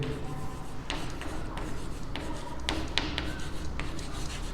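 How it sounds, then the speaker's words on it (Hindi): Marker or chalk writing on a board while equations for a Class 10 CBSE maths lesson on linear equations are set out, a steady scratchy rubbing with short strokes and taps, fairly quiet and continuous with no talking. "मैं लिखता हूँ यहाँ पे"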